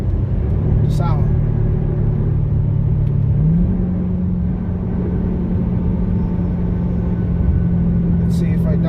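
Dodge Charger Hellcat with a GtHaus American Roar exhaust, a deep steady rumble heard from inside the cabin with a brief pitch step as it shifts, loud and continuous.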